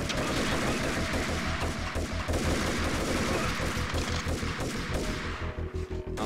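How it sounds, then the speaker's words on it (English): Rapid gunshots in the video game Max Payne, a loud continuous fusillade of overlapping bursts, machine-gun-like and sustained from start to finish without any talking. "I don't know where the other shots are coming from."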